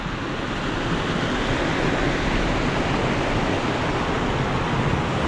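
Strong river water rushes loudly and continuously, a dense broadband roar of flowing current close by with no breaks.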